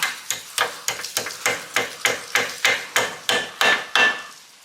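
Rapid, evenly spaced hammer taps ring out on a metal brake pin on Brembo-style rear brakes, roughly a dozen bright metallic clinks, close up with no talking.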